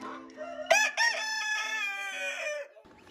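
Heritage breed rooster crowing on a farm, one long, loud, close cock-a-doodle-doo lasting over two seconds, followed by a short quiet tail.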